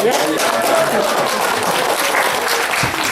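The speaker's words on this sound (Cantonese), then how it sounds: "俾個掌聲啦！" At a 2016 seminar on science-based products, a large audience breaks into a burst of steady, full applause with a faint crowd murmur underneath, continuous and close throughout.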